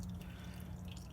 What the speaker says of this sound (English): just waiting for this one to drain a little bit longer